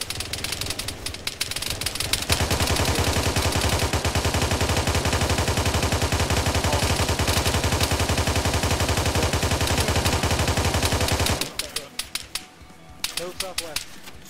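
Sustained automatic gunfire from a squad returning fire in a video game firefight: about nine seconds of loud, continuous rapid bursts, then scattered shots that taper off near the end.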